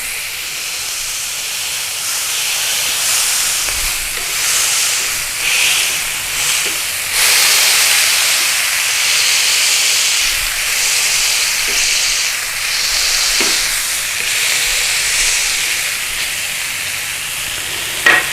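A smash burger patty sizzles loudly and steadily on a hot surface as it is pressed flat, a continuous hiss with a few small pops and no talking.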